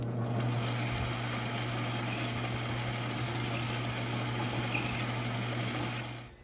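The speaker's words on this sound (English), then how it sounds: "when you're filing on a lathe" A metal file works an edge against a workpiece spinning on a lathe, under the continuous loud whir of the running machine, steady and close, tapering off at the end.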